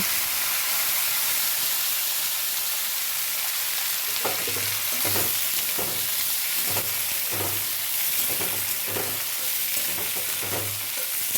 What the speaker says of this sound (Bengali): আলু ভাজা হয়ে গেলে ওই তেলের মধ্যেই পনিরটাকে ভেজে নেব